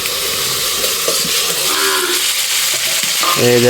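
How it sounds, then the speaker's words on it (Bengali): A lid lifted off a pot of mutton cooking on the stove, releasing a steady close sizzle with a few faint clinks. "এখন ঢাকনাটা খুলে দেখি কীরকম মাংসটা হয়েছে কি হয়নি"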